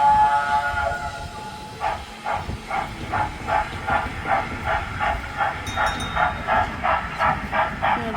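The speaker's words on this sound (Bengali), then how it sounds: "এই যে এই ট্রেনটাই করে চারিদিকে ঘোরায়" Tourist road train running on wheels rather than rails at Eagle Point, Langkawi, giving a steady run of rhythmic pulsing chugs over loud outdoor background noise, with no talking.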